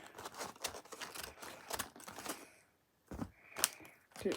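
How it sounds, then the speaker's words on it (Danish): Scissors snip open a Moondust candy bag in a series of close, crisp cuts with short pauses between them, plastic crinkling between snips. "Så nu prøver jeg lige at klippe den op jo."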